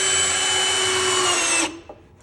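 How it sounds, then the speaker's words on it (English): A power drill whirs steadily as it drives a screw into a dresser top during assembly, a loud close whine that cuts off abruptly and leaves near silence. "So now I can just go around and add the rest of the screws."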